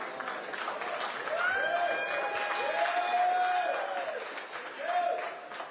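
A billiards crowd breaks into applause and cheering after a cue ball stun shot swung two rails, a sustained wash of clapping and voices that swells and then eases off, with a few whistles.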